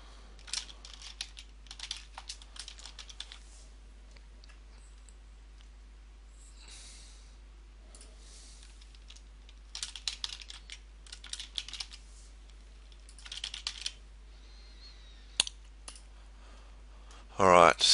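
Contact details are typed on a computer keyboard in short close bursts of quick clicky keystrokes separated by quiet pauses, against a low steady hum, with a couple of louder thumps at the end.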